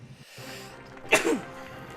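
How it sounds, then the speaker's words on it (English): A single sharp sneeze bursts out near the mic during a Rocket League esports qualifier broadcast, one loud spike over a low murmur of background commentary and game noise. "Ooh, I need to sneeze."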